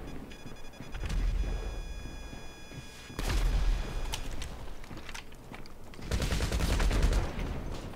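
Bursts of combat MG machine gun fire in GTA Online, three loud rattling volleys a couple of seconds apart, each lasting about a second or more, over a busy game soundscape.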